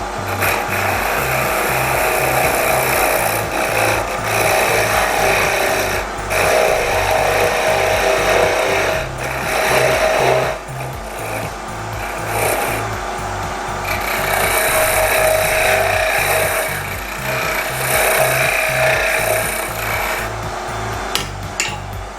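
A spindle gouge cuts wood on a lathe while a tippe top is turned, giving a steady, close scraping and rasping hiss with a rhythmic low throb from the spinning stock, continuous for the whole stretch.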